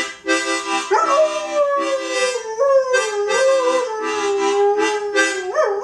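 A singing dog howls at close range in long, wavering, tuneful wails that rise and fall, loud and continuous with no voices over it.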